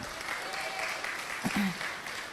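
An audience at a tea gathering applauds a musician, a soft, steady patter of clapping with a few low voices murmuring underneath.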